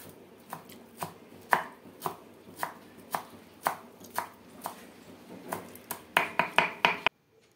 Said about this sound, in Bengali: এবার ধনে পাতাগুলো কুচিয়ে নেব।